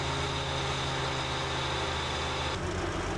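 A Volkswagen Corrado G60 engine runs at a steady, even idle close by, a continuous hum with no voices over it, and the tone shifts slightly near the end.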